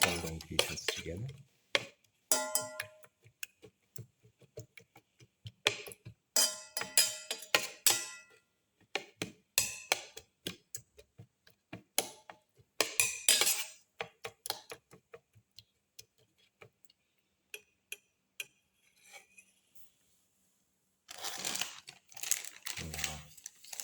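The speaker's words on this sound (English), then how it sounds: "Thoroughly mix and crush all the ingredients together." Omelette ingredients, including black pepper, moringa leaves and potato, get mixed and crushed in a bowl, with close, irregular bursts of clicking, tapping and scraping separated by quiet gaps.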